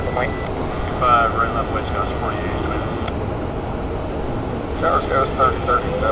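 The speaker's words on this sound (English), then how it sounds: "I'm about to miss this Dreamliner to come in. American Airlines coming in from Dallas. Dreamliner." An American Airlines Boeing 787 Dreamliner landing at Phoenix produces a steady, moderate jet rumble, with brief tonal whines rising near the start and end while someone talks.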